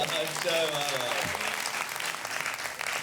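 Applause from a comedy show audience at a Hindi-Urdu humour poetry gathering fills the clip steadily, mixed with a voice that carries through the clapping.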